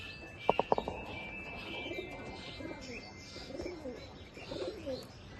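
Pigeons in a loft coo softly at intervals, some low burbling calls close by, after a few sharp knocks at the start.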